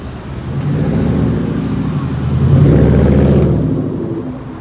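A Ford Mustang accelerates hard past a street spotter, a loud deep engine roar that builds, peaks and then recedes as the car pulls away.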